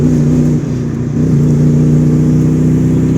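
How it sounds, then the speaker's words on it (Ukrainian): A car with a sport exhaust revving with a deep, throaty exhaust rumble, steady and loud at close range, dipping briefly before rising again. "ваш стріляє, це спортивний вихлоп, так?"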